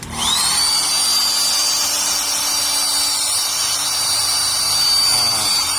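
Repaired electric hair dryer running steadily at close range, a continuous loud motor and fan whine with a high tonal hum that holds level throughout, with no speech.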